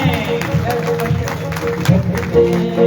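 A church congregation at a Sunday service claps loudly and steadily, a dense wash of hands with murmuring voices mixed in.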